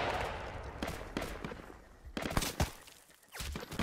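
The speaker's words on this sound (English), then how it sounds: "I'm just firing off deadly missiles" A mortar launches missiles in Roblox, sounding as a handful of sharp, separate blasts spread unevenly over a few seconds against a quieter background.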